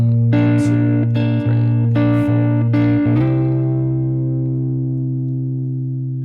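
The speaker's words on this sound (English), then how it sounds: "I've added an overdrive pedal, and I'm also using the bridge pickup now." An electric guitar played through an overdrive pedal on the bridge pickup sounds a few loud, sustained distorted chords struck in a steady rhythm, with the last one ringing out alone and fading.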